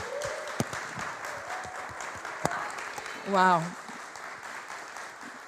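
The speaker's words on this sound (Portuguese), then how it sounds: "Outra salva de palmas, Nazaré." Light audience clapping at a leadership seminar, soft and somewhat distant, with a person's brief exclamation partway through and voices around it.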